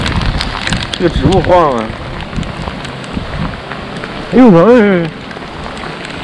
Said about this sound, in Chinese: 啊，这个雨太夸张了。